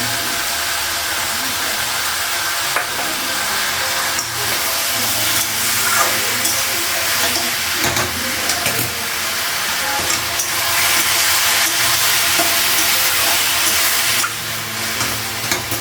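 Tomatoes sizzle and hiss in a hot pan as they are stirred, a loud, steady frying roar with occasional scraping clatter, close up and continuous throughout, no voices.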